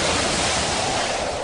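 Strong wind and waves crash over a boat at sea, a dense continuous roar of rushing water and spray, loud and unbroken throughout with no voices.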